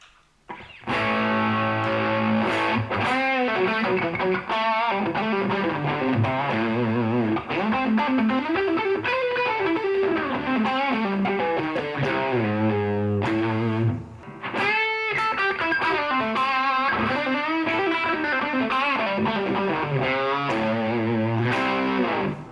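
Electric guitar through a tube overdrive effect plays a sustained, gritty riff, chords ringing loud and steady, with a brief pause midway before continuing.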